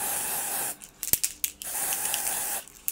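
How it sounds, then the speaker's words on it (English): Ebin lace tint spray in light warm brown misted onto the part of a synthetic deep-part wig: a loud, steady hissing spray that stops briefly midway for a few short clicks, then resumes before ending. "take my Ebin lace tint in the shade light warm brown, and I'm just going to go ahead and spray my part"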